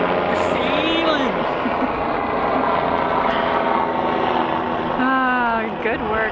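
A helicopter passes overhead above a sailboat near the Golden Gate Bridge in San Francisco, its steady rotor and engine roar loud and continuous, rising and shifting in pitch as it moves over, with wind noise around.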